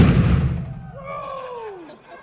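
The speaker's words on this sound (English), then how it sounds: "Hydrogen, oxygen, explosion in 3, 2, 1." A single sharp, loud bang from a hydrogen and oxygen explosion at a live science museum show bursts out at the start, then rings off into a fading whistling echo.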